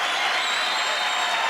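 Crowd at American Gladiators cheering and applauding after a small contender wins a bout, a steady dense wash of clapping and shouting filling the arena, loud and continuous throughout.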